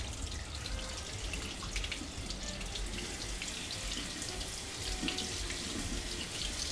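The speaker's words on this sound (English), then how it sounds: "So I've rinsed them really good" Running tap water pours steadily over almonds being rinsed in a sink, a constant close splashing rush with no pauses and no talking.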